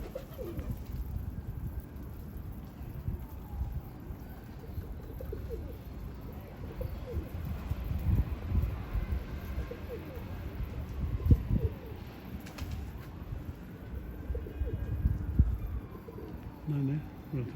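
Domestic pigeons coo in low, soft repeated murmurs throughout, close and steady, mixed with rustling and occasional people talking nearby.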